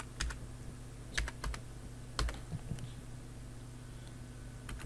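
A computer keyboard being typed on in a few short, sharp clusters of keystrokes, clicking close by and spaced by quiet gaps, with no voices present.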